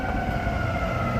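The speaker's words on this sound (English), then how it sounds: "Yeah, we need some more sirens. You need some sirens." Emergency vehicle sirens wail steadily along a Chicago street, a continuous tonal howl over low rumbling traffic, fairly loud and unbroken with no voices.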